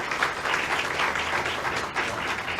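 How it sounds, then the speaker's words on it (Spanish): An audience claps steadily for a speaker being handed a certificate after a talk at a legal reasoning and argumentation lecture, a dense sustained round of applause with no voices. "Un aplauso,"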